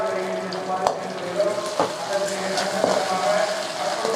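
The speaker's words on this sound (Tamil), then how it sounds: "தக்காளி சேர்த்து நல்லா தக்காளி வதக்கி விடுங்க ஃப்ரெண்ட்ஸ்" Chopped tomatoes and onions sautéing in a pan for quail gravy, a steady close sizzle broken by a few scraping stirs of a spoon, with a voice talking over it.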